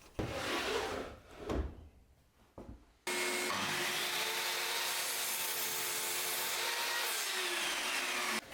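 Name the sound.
miter saw cutting 3x2 timber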